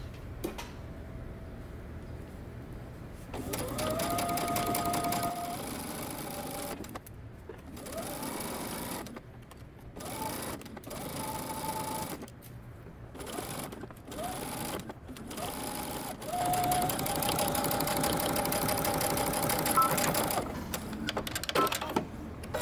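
Sewing machine stitching a collar onto the neckline of a knit top, running in bursts of fast whirring stitches separated by short pauses, close and clear with no talking.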